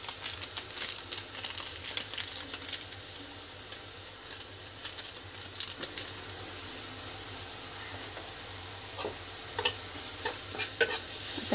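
Leftover chapati pieces tossed with Maggi masala in a pan, a soft steady sizzle beneath occasional light stirring scrapes, with sharper clinks near the end and no speech.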